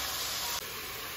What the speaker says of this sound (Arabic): درت اللحم ودرت بصلة والربيع، كنخليهم يتقلاو شوية ديال، خلطت ما بين زيت الزيتون والزيت العادي